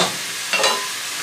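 Caribbean curry chicken cooking down in a pot on the fire, a soft steady sizzle with a short brighter burst of bubbling midway, heard close and alone.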